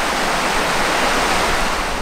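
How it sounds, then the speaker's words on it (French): A waterfall roars as a steady, dense rush of falling water, loud and close, with no voices over it. "tu vois la cascade est là-bas"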